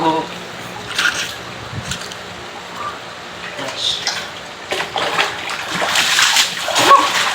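Water splashes and sloshes as people bathe in a drum in hot weather, irregular bursts of splashing near the microphone with voices and shouts mixed in between.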